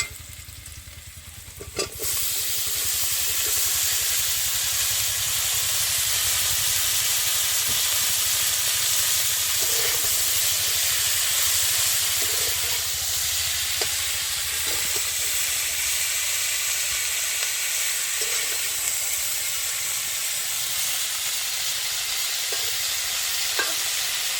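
Malabar spinach greens hit hot oil already holding onion and green chili, giving a loud, steady close-up sizzle that hisses on without a break, with faint clinks of stirring.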